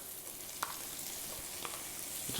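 Diced tomatoes hit a hot pan while making steak queso, giving a steady hissing sizzle with a few soft clicks and taps of stirring, close and moderately loud.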